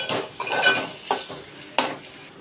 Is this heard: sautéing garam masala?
yes